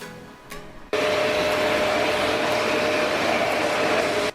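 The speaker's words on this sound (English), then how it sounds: "This vacuum cleaner helps me to clean it very properly." An LG vacuum cleaner switches on after a quiet moment and runs at a loud, steady whine with a constant hum, close by and alone, no talk over it.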